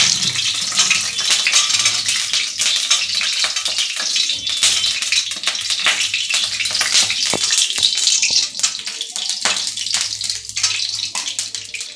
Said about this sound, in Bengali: তেলে আমি প্রথমে আলুগুলো, এই যে আলুগুলো একটু লাল লাল করে ভেজে নেব।